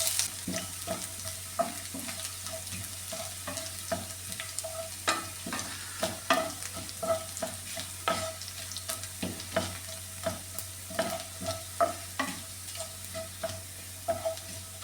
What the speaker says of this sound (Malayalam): ഇനി ഇതിലേക്ക് ഈ ഇഞ്ചിയും വെളുത്തുള്ളിയും അതും കൂടി ഇട്ട് കൊടുക്കാമേ.